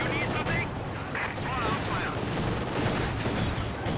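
Small arms gunfire crackles in a Company of Heroes 2 battle, a dense continuous rattle of rifle and machine gun shots with faint talk beneath.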